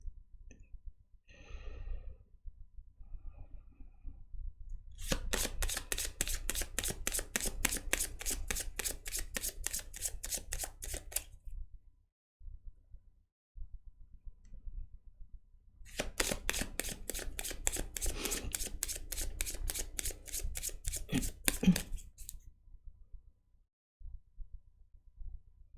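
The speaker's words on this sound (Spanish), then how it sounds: "vamos a concentrarnos a barajar las cartas" Tarot cards are shuffled by hand in two long stretches of rapid, crisp riffling clicks, each lasting about six seconds, with near silence between and no talking.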